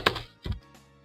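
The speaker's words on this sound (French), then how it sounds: "J'ai explosé mon clavier." Two hard, heavy keystrokes hammer a computer keyboard during Nostale gameplay, close and loud, each a short thunk about half a second apart with nothing else around them.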